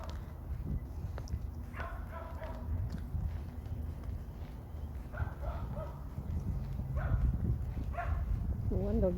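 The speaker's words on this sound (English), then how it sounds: "One doggy's not happy." A dog barks in short bursts at a distance around old heritage buildings, several separate volleys of yaps spread out over steady outdoor background noise and footsteps.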